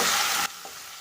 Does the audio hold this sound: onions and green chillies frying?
yes